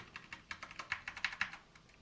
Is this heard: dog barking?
no